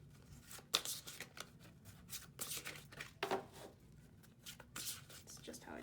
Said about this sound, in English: I'm sorry if my shuffling annoys you.